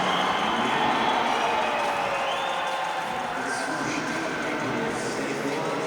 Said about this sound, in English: Listen to that crowd right there